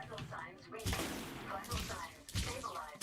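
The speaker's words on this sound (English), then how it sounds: "Or rather NPCs with shotguns." NPCs firing shotguns at the player in Elite Dangerous, a few heavy booming blasts at irregular intervals, mixed with the player's agitated talk.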